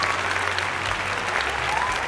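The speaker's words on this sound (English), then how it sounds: "So yes, more clapping." Applause and clapping in a live show setting, a steady dense patter of hands sustained for about two seconds at moderate loudness with no talk over it.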